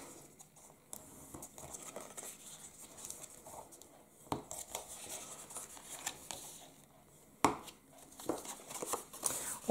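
Colored cardstock being re-creased by hand while folding face mask packaging, giving soft rubbing, scraping and tapping sounds with a few sharper clicks, fairly quiet and close, with no talk.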